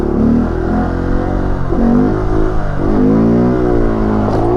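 A car on a stunt-practice lot revs loudly and close as the throttle is pressed and released, the engine note rising and falling in several repeated swells.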